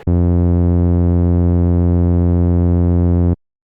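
Serum software synth playing one sustained tone from two oscillators routed into a filter, not yet detuned: a loud, static, buzzy note holding for about three seconds and cutting off abruptly.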